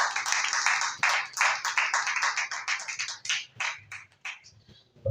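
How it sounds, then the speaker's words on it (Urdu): A church congregation breaks into loud, dense applause for a pastor, a sustained burst of clapping that thins and fades out, with a final flurry at the end. "زوردار تالیوں میں"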